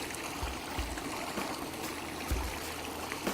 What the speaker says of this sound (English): Pick up on the cool waterfalls we built. Nice stream coming in.